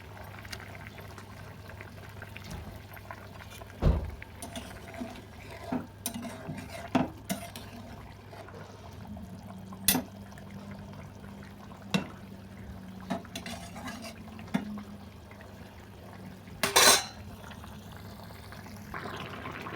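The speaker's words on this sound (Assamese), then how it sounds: "তো এয়া জোলখিনি উতলি গৈছে, এতিয়া মাছটো দি দিম" Fish curry broth boiling in a pot: a steady low bubbling and hum, broken by scattered clinks and knocks of a utensil against the pot.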